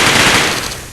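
Six scatter cannons in the Space Engineers video game fire together in a dense, continuous burst, a loud rattling roar that fades slightly toward the end of the second, with no voices.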